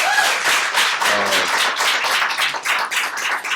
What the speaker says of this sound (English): I think we should give them a warm round of applause for this